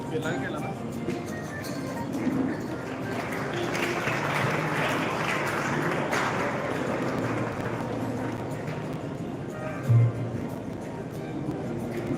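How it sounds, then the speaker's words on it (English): Applause from an inauguration crowd swells into a broad, steady wash of clapping that lasts the whole stretch, with a brief louder knock near the end and faint voices mixed in. "Please give a big round of applause."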